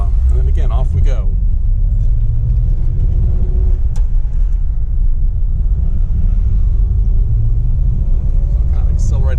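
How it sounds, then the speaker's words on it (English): A 1948 Packard Custom Eight pulls away in gear, its deep, steady engine rumble building under acceleration from inside the car, with a brief voice at the start. "I'll kind of accelerate a little bit harder here. You can hear it rev up."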